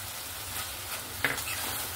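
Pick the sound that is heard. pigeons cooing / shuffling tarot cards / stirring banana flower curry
stirring banana flower curry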